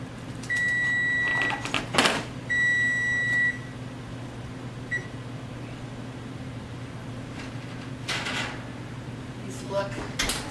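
An oven door clunks open and shut as baked streusel is taken out, after steady beeping tones and amid a constant appliance hum, with a further faint clatter near the end.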